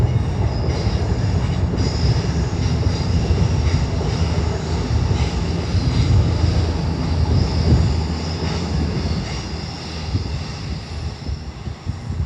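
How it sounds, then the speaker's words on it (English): An Avanti West Coast train bound for Holyhead and Wrexham General rolls past at Primrose Hill, a loud steady rumble of wheels and carriages sustained throughout with faint high squealing on top. "Avanti West Coast service to Holyhead and Wrexham General."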